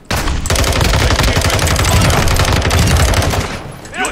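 Rapid automatic gunfire in the shooter game Call of Duty DMZ, a loud, close, continuous burst rattling for over three seconds before stopping, with a short whoosh at the end.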